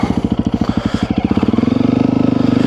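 A Honda CRF300L with a Yoshimura full exhaust pulses loudly and close, its steady single-cylinder thump firming into a quicker, smoother drone as it pulls away.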